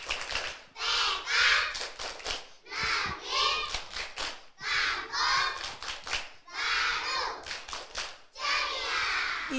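Kindergarten children chanting a rhythmic clapping cheer together, bursts of many young voices and sharp hand claps in repeated phrases with short pauses between them.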